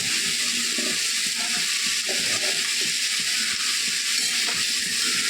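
Washed and drained cauliflower tossed into a pan of frying onions for cauliflower bhaji sets off a steady, loud sizzle, with soft stirring and scraping clatter on top and no talking.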